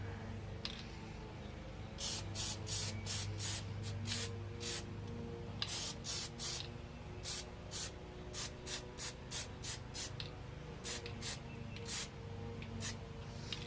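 Rapid bursts from a Plasti Dip aerosol can coating a car emblem, a Mustang badge among them, sprayed from about six to ten inches away. The short hissing blasts come close and loud in quick irregular runs over a low steady hum.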